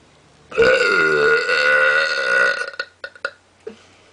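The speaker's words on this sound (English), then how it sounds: "trying to try out for the Guinness Book World Record of the loudest burps" A girl lets out one long, very loud burp lasting about two seconds, followed by a quick run of shorter, softer burps and a final small one, close to the microphone.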